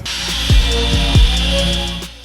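A steady, high-pitched power drill whine runs throughout, with a few low knocks and thumps as the bit bites into metal, drilling out broken exhaust studs on a BMW.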